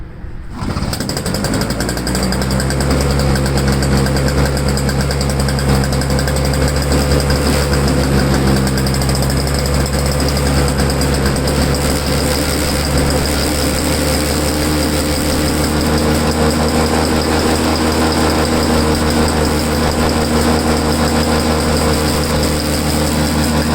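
A small two-stroke gasoline engine, choked and running on old fuel mix, catches and then runs loud and steady at high revs with a buzzing rattle, close and continuous with no talk.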